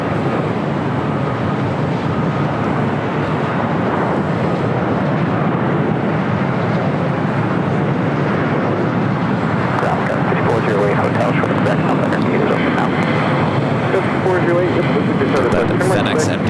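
A United Airlines Boeing 737-800 takes off at LAX, a broad steady jet roar that holds throughout, with a voice talking over it.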